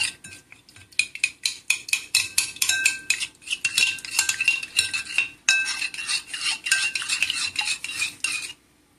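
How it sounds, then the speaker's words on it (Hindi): A spoon clattering rapidly against a bowl while mixing ingredients for eggplant snacks, a dense series of bright metallic clinks and scrapes for about eight seconds, then stopping. "इस सब चीज़ों को हमने अच्छी तरह से मिक्स करना है"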